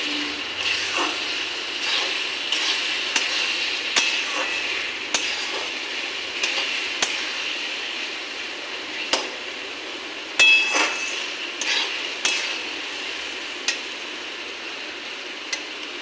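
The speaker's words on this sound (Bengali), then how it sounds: "ড্রাই ফ্রুটটা চাটনির সঙ্গে মিশিয়ে নিই।" Dry fruit (dates, mango leather and raisins) stirred into cooking tomato chutney. A spoon repeatedly clinks and scrapes against the pan in irregular knocks over a quiet simmering hiss.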